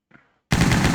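SIG gun in Soldier of Fortune II Unreal Edition opening up after a faint click, a sudden loud, close rapid automatic burst of gunfire continuing to the end.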